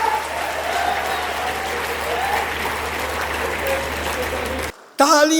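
Sustained audience applause from a crowd at a comedy storytelling show, a steady dense wash of clapping for about five seconds before it cuts off abruptly and a voice begins.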